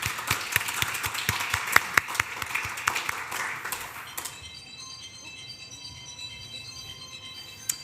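Audience applause at the end of a talk at a British Curriculum Forum research showcase, a burst of many hands clapping for about four seconds, then fading into quiet room tone.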